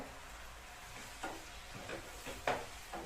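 Okra frying in a pan for bhindi masala, stirred now and then: a steady soft sizzle with a few louder scraping stirs near the end, close and without talk.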